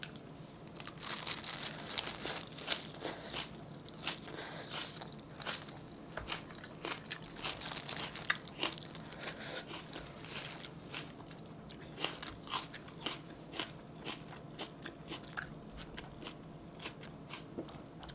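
Close crunchy chewing of BBQ pork tenderloin with shredded green onion, repeated crisp bites and wet mastication in an irregular rhythm, steady and near with no talking.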